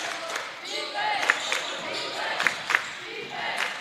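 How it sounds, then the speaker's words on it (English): Visiting Feather River College fans cheer and shout at a men's college basketball game against San Mateo in a gym, a broad crowd roar with a few sharp louder yells, mixed with voices. "All right, the crowd getting alive."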